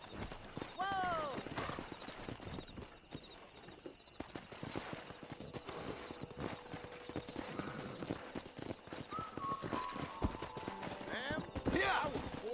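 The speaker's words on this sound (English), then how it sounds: "there's a pack of wild horses nearby" Rapid hoofbeats of a pack of wild horses galloping in the game Red Dead Redemption, with an occasional whinny, mixed into a busy, dense background.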